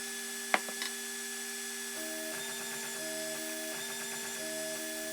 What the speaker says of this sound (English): You can see the print head continues circling and then heads down to resume printing.